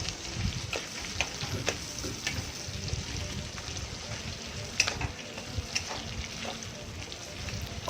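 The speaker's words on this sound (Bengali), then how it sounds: "খুব ভালো মতো করে উল্টে পাল্টে ভেজে নিতে হবে।" Fish pieces sizzle in hot oil in a pan while being turned and stirred, a steady crackling fry punctuated by scraping and clinking of the utensil against the pan.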